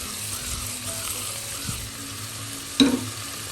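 Paste of ginger, garlic and green chili with curry leaves sizzles as it fries in hot oil for chicken biryani, a steady close crackle with one sharper burst of spitting near the end.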